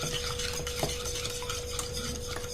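A spoon stirs a no-bake summer cake mixture in a pot, a continuous close, busy scraping and swishing with faint clinks and a steady background hum, no talking.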